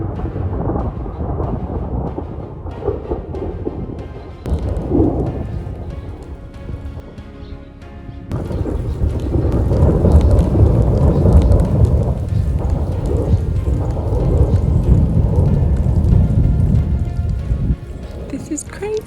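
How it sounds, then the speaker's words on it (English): Thunder rolls in long, heavy rumbles through a mountain rainstorm in the Sierra Nevada along the Pacific Crest Trail, with rain falling steadily and a sharper, closer crack partway through. "That's the rumble of thunder."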